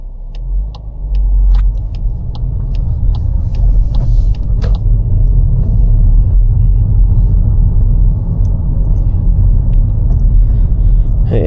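A car creeping slowly past parked cars on both sides along a Chadderton driving test route, a loud steady low engine and road rumble with a few faint ticks early on.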